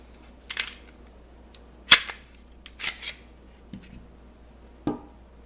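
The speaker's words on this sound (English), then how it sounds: "Then we will want to field strip the weapon." Sharp metallic clicks and clacks from a Glock 17 Gen 3 pistol being field stripped, a handful of separate close snaps spread out over a few seconds against a quiet background.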